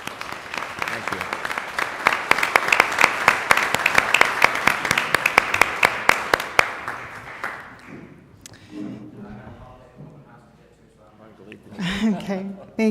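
Audience applause at an Oregon Tourism Commission meeting, a dense sustained clapping from a room of people lasting several seconds before fading out, followed by a few words of speech.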